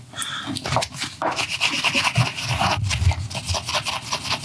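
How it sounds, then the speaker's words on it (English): Scrubbing of a Seiko Alpinist watch bracelet and clasp: a close, steady brushing rasp with rapid back-and-forth strokes that runs continuously for a few seconds, with no talk. "just give it a nice little scrubbing. We'll do the clasp as well."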